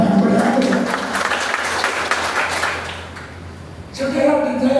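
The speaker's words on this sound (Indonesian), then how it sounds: "Berikan tepuk tangan yang berharga." A church congregation claps together during a sermon, a loud, busy spatter of hands that fades toward the end before voices and music return.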